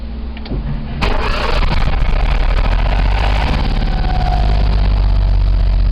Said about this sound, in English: Right, it's turnover after a year. Here we go.